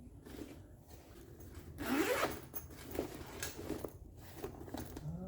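A single zipper on a Chase Harper motorcycle tail bag pulled open in one quick rising rasp, close up, followed by soft rustling and handling noises.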